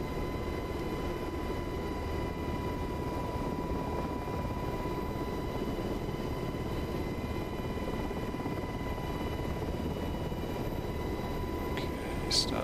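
A UH-60 Black Hawk helicopter in a flight simulator gives off a steady, even rotor and turbine drone throughout, with a constant whine above it and no break in the engine noise.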